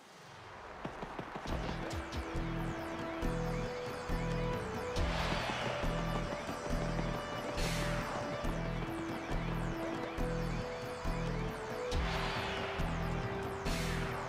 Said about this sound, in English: they made this track especially Asian for this version